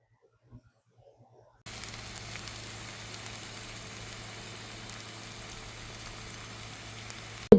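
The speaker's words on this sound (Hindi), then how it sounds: "ये देखें इसे मैं मीडियम फ्लेम पे फ्राई कर रही हूँ।" Potato kababs shallow-fry in oil over a medium flame, a soft, even sizzle that starts abruptly after near silence and carries on steadily and fairly quietly to the end.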